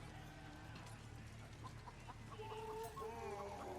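A chicken clucking in Baldur's Gate 3, several short near clucks in a quick uneven run, faint under a low murmur of game ambience.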